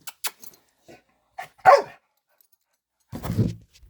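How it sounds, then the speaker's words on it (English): A dog gives a few short, sharp barks up close, with soft yips and faint noises between them in an otherwise quiet room. "You don't get to bark at me."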